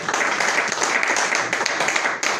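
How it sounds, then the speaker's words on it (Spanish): A church congregation applauds in a steady, dense wash of clapping that fills the space, loud and continuous throughout with no break. "Den un aplauso al Señor"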